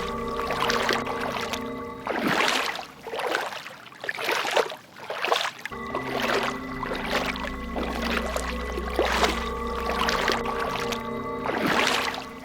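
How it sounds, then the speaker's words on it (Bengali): In an animated cartoon, oars dip and splash through river water in slow, regular strokes about every two seconds, with a soft steady tone droning in the background. "এরপর মাঝি তার নৌকা নিয়ে সেই বউটার কাছে যেতে থাকে"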